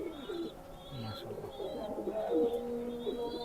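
Pakistani highflyer pigeons cooing softly and repeatedly close by, low throaty calls mixed with a few faint higher chirps from other birds in the background.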